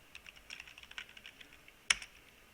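Computer keyboard typing while creating a folder on a CentOS Apache server: a quick run of light, close key clicks in an irregular rhythm, ending in one louder, sharper keystroke near the end, with no voices.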